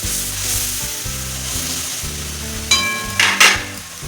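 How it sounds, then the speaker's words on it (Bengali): Spice paste of turmeric, cumin and Kashmiri chilli powder sautés in a pan for a cabbage and small-shrimp dish, with a continuous sizzle broken by a few sharp stirring scrapes and light metal clinks toward the end. "এবার মশলাটা ভালোভাবে কষাইতে হবে"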